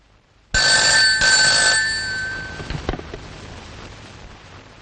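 An office telephone bell rings loudly and close for about two seconds, then fades out, followed by a few clatters as the handset is picked up.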